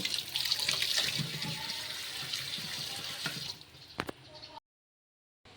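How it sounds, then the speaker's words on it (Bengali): Raw chicken being washed in a bowl, with running water splashing and swishing loudly up close, then thinning into trickles and a few sharp drips before cutting to silence. "বলবাটিতে আমি পুরোটা চিকেন ঢেলে নিয়েছি এবার এটা আমি ভালোভাবে ধুয়ে নেব"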